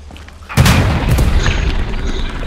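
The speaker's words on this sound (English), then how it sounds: "How many fucking rockets is that tank gonna take? I shot it twice." Rocket explosions hitting a tank in the World War II shooter Hell Let Loose: a sudden heavy boom lands close and loud, followed by a rumbling, crackling tail of gunfire and debris that fills the rest of the moment.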